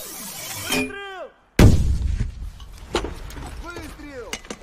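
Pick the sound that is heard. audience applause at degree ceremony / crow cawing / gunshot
gunshot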